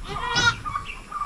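Goat on a farm just after giving birth, letting out a short bleat up close, followed by faint farmyard noises including what may be clucking fowl.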